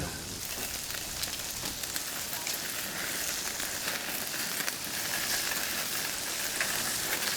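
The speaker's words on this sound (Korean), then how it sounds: "기름이 지글지글 하는 소리가 나요" Grenadier anchovy sizzles steadily in hot oil, a constant crackling hiss with scattered sharp pops, close by and uninterrupted.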